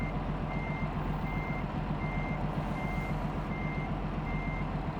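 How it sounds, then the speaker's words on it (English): Steady reversing beeps from a DAF XD truck in Euro Truck Simulator 2, six evenly spaced tones over a constant low engine rumble. "Just driving backwards"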